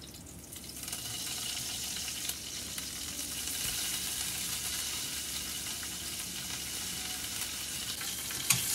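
Fennel seeds, cinnamon, cardamom, curry leaves, bay leaf and pandan leaf fry in hot oil for a mutton curry, giving a steady, bright sizzling hiss that runs unbroken, close up, with a faint clink at the very end and no speech.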